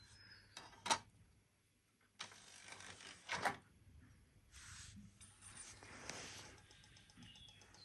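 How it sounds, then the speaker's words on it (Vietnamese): A Rotel 1072 CD player strains to read a badly scratched, pitted disc, making faint mechanical whirring with soft clicks and ticks that come and go, plus a few sharper brief knocks. "anh em nghe tiếng đọc, cố gắng đọc lắm ấy."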